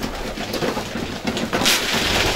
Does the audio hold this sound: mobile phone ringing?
no